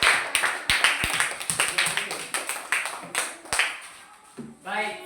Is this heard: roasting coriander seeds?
no